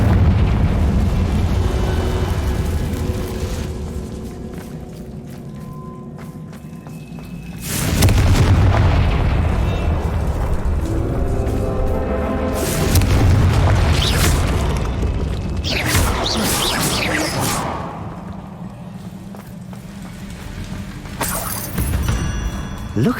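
Loud booming blasts from the Confringo spell in Hogwarts Legacy, several heavy explosions spaced through the stretch over a rumbling game ambience, with brief character speech between them.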